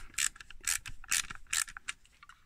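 Screwdriver driving screws into a KITT (K2000) scale model kit part, close up: four bright bursts of ratcheting turns in steady rhythm with softer clicks between, no talking.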